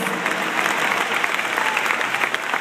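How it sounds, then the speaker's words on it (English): Steady applause from a small audience of about a dozen people at a business talk, continuous clapping at moderate loudness with no gaps for the full stretch. "give these people an enormous round of applause"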